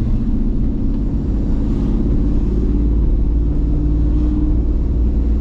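A Camaro SS under rebuild drives along with a deep, continuous engine rumble, loud and close from inside the car, holding steady low-speed torque without a break.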